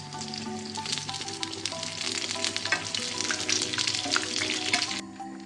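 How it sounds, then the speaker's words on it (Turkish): Steady, close crackling and sizzling of cheese-filled börek pastries frying in hot oil, with a low hum underneath and no talking. "Şimdi çevirip kızartmaya devam edelim."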